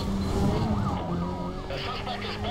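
Police siren wailing in the Need for Speed Carbon racing game during a police chase, a rising and falling electronic wail layered over a steady engine drone, with a second higher siren joining near the end.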